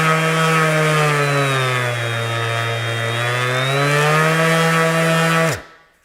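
A DeWalt 20V cordless sander runs steadily at close range with a strong tonal whine, then cuts off abruptly near the end, leaving silence.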